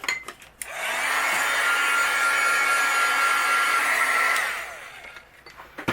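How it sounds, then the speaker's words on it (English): Heat gun blowing to melt white embossing powder on a card, a steady loud whirring hum that starts abruptly, holds for several seconds, then cuts off, with faint handling clicks around it. "I'm going to use my heat gun, and we're going to melt this."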